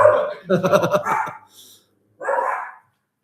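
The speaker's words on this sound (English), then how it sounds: "He's a fierce dog, man." A dog barks in a quick run of several loud, close barks, then one more bark after a short pause, near a billiards table.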